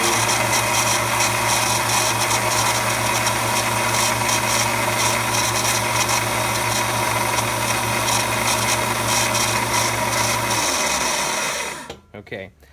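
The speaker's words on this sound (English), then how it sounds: "you would switch the belt sander on" A belt sander used to shape titanium for a case-opening tool whirs continuously at a steady, loud pitch, then switches off and spins down near the end.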